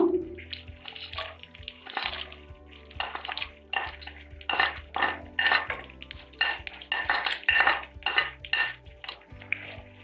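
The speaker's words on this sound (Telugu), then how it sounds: "ఇప్పుడు బాగా వేయించుకున్నాము శనగపప్పులు కూడా" Chana dal and green chillies fried in oil for lemon rice are stirred with a utensil, giving repeated clinks and scrapes against a metal pan. The strokes come in uneven bursts close by, with no talk.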